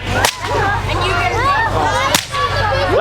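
A bullwhip cracked by a performer at a winter festival show, two sharp loud cracks about two seconds apart over a busy background of crowd noise.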